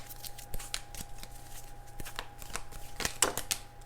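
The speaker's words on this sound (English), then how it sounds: "It is not the easiest thing to shuffle heart-shaped cards." Heart-shaped oracle cards are shuffled close by, producing a soft, irregular run of riffling slaps and papery flutters over a quiet background, with no voices.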